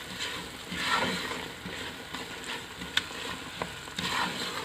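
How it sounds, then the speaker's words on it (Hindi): Doodh ka halwa being stirred in a pan after pistachios and almonds are added, a soft continuous sizzle with faint scraping and a few light clicks of the spoon against the pan. "इसको मिक्स कर देंगे।"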